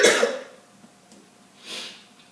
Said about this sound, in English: this sudden cough does not want me to be great